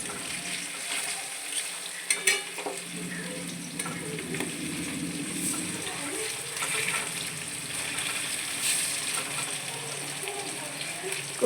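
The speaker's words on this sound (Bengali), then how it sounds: "দেখুন এদিকে আমার ভাজা হচ্ছে, কোপ্তা ভাজা চলছে।" Kofta frying in hot oil in a home kitchen, a continuous steady sizzle with faint occasional clinks and stirring noises, fairly quiet and without talk.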